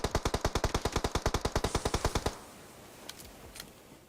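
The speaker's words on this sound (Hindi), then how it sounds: "सामने वाला बंदा एक गोली चलाता है और सर पे लगती है मेरे सीधा" Rapid automatic gunfire in a PUBG-style battle royale shooter, about twenty evenly spaced loud shots in a two-second burst that then stops abruptly, followed by a couple of fainter distant shots.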